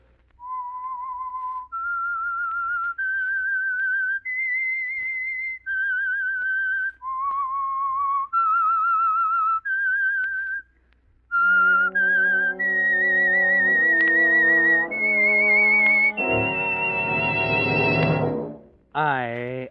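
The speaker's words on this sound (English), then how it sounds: "That whistle is your signal for the Signal Oil program" A clear, melodic whistled tune, the theme of the old radio drama The Whistler, plays alone, steady notes rising and falling, ending in a brighter flourish with a swelling orchestral chord.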